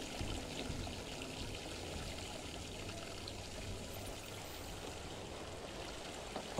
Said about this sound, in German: Wasser mal abstellen.